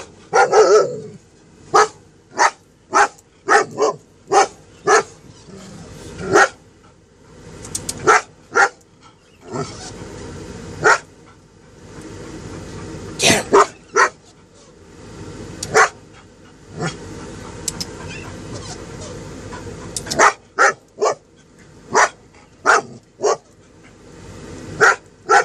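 A dog barks in repeated sharp bursts, some in quick clusters and others spaced apart, loud and close inside or beside a van, with a steady low background hum between barks.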